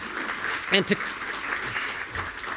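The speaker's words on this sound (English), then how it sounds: "that was longer applause than I had paused for" Applause from a conference audience at a cyber regulation panel thanking the event organizers, a moderate, steady patter of clapping with a few voices briefly audible over it.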